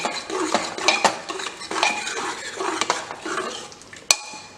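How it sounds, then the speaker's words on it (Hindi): A spoon stirs and mashes chickpea curry (chole) in a metal pan, scraping and clinking against the sides in an uneven rhythm with a faint sizzle underneath. The sound is close and clear, and no one talks. "इस तरह से हम इसको ज़ोर से हिलाएंगे"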